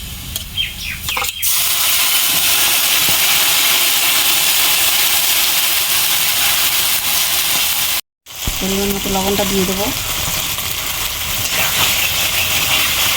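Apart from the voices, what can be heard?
spice paste frying in oil with fried onions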